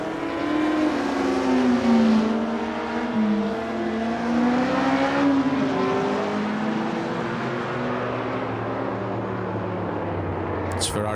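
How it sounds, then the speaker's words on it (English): Naturally aspirated 1960s V8 and V12 race cars, including a Ferrari 250 GTO, in a sim race at Riverside, loud wailing engines rising and falling through gear changes, several cars blending in a continuous roar. "This has to be one of the best sounding races I've ever been in. V8s, V12s, all of them naturally aspirated."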